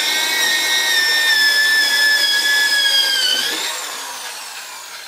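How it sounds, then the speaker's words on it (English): A high-pitched drill whines steadily while boring into wood, its pitch dipping slightly before the motor winds down. "So we're just going to drill a hole in here."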